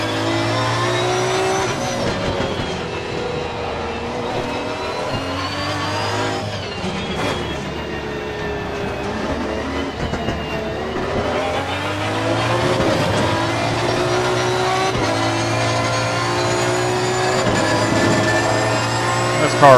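Aston Martin V12 GT3 race car engine in Assetto Corsa Competizione at Barcelona, a loud continuous high-revving howl rising and falling through repeated gear changes and braking for about twenty seconds.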